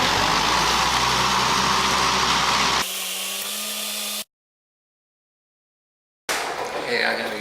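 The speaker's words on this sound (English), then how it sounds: "After a long time of working on it, the tractor finally started." A tractor engine, recently cleared of clogging palm nuts, runs steadily after finally starting. Its rough idle holds before cutting to a short silence and then returning.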